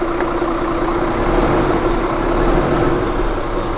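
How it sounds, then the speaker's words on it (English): Scania R 450 truck with its engine running in a steady low diesel rumble and a constant mid-pitched hum, loud and close without talk. "I'm just going to start it up just to give you a quick sound of the engine."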